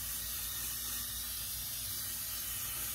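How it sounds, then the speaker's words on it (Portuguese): Hair spray hissing steadily from an aerosol can onto a Christmas decoration arrangement with small balls, a continuous close, even spray lasting the whole moment. "nós vamos passar spray de cabelo"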